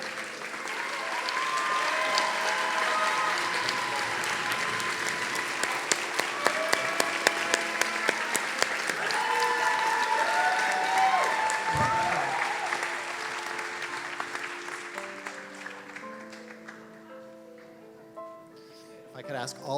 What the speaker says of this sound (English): guests, please give one last round of applause to this incredible group of people